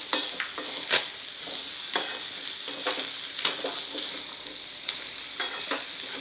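Ivy gourd pieces sizzle softly in a pan while a spoon stirs them, giving irregular scraping taps and clinks over a continuous hiss, close by and moderately quiet, with no voices.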